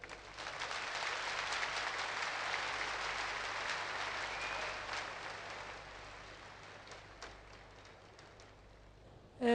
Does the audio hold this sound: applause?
yes